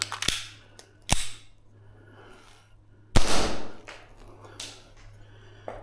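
A Tokyo Marui Chisato airsoft pistol, its slide not fully returning to battery, fires a few sharp snapping shots at irregular intervals, followed by mechanical clacks and handling noise.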